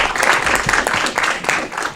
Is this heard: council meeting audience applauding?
yes